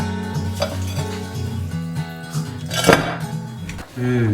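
A clay pot is covered with its lid during cooking of a vegetable asam pedas, giving a single short clink midway, set beneath ongoing voices and tonal background sound.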